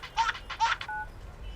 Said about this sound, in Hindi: घंटी बज रही है। अभी बजा के गया हूँ। अरे मैं फोन की बात कर रहा हूँ।